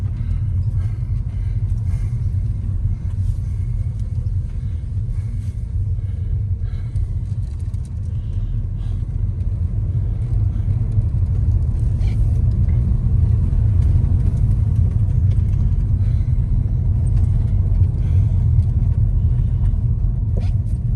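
A car cruises steadily uphill along a residential road lined with houses and thick forest near Maleny, its low engine and road rumble continuous and close throughout with no sharp changes.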